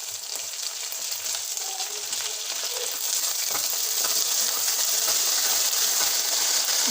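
Curry leaves sizzling in hot oil for a carrot fry, a steady loud crackling hiss that builds slightly and continues unbroken, with no talking.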